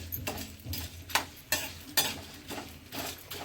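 Edible gum frying in ghee while being stirred for antina unde laddoos, a steady soft sizzle broken by repeated scraping strokes of a ladle against the pan at a slow, regular rhythm, close and fairly quiet.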